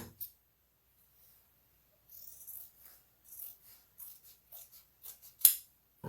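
Plastic strip being cut through the middle with scissors while making a handled plastic bag: a string of short, quiet snips and crinkles, one sharper snip standing out, after a brief near-silent pause.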